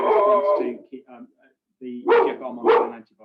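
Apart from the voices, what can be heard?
dog barking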